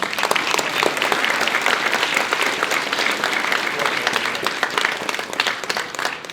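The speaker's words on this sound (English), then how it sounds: "let's give her a round of applause" Dense, sustained applause fills the room at a political campaign fundraiser featuring Ken Paxton, a loud, steady wash of many hands clapping together throughout.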